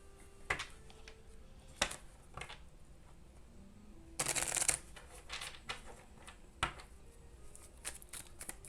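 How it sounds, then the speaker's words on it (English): Oracle cards shuffled by hand in a quiet room, with scattered soft taps and riffles and one longer, denser shuffle burst in the middle; no one speaks. "Let's get some oracle cards."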